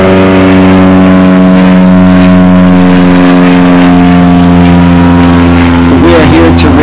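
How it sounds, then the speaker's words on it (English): In a back garden, a low steady engine rumble from distant M1 motorway traffic and planes overhead drones continuously, loud and unbroken, with a rising whine toward the end. "M1 traffic in the distance."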